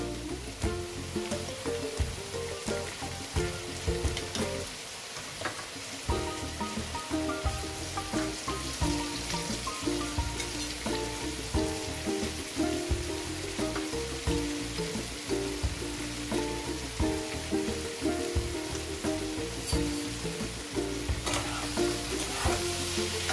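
A hilsa fish head and eggplant fry in a pan with salt, turmeric and Kashmiri chilli powder, a continuous close sizzle with a steady tonal layer, likely background music, running beneath for the whole stretch.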